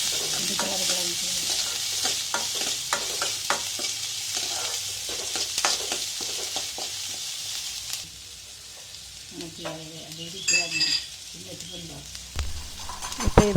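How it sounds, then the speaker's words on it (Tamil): Ground coconut paste being stirred into a vegetable pulao in a sizzling pan, a spoon scraping and turning in quick repeated strokes over a soft steady fry, with someone talking at moments. "தேங்காய் அரைச்சி இதில் போட்டு கிளறணும்."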